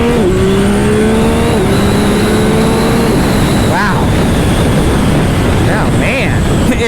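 A 2025 Yamaha YZF-R9 with an inline three-cylinder engine accelerates hard through the gears, a loud close rising engine note climbing to high revs, dropping at each shift and pulling again, with wind rush over the ride.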